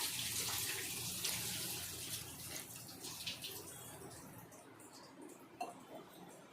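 Water runs steadily into rice for mutton biryani, a faint continuous pouring wash that softens slightly toward the end.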